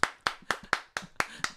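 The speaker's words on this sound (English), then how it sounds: "Let's clap for that." A single person claps in an even rhythm on a morning show, seven sharp close slaps about a quarter second apart, alone with no talk over them.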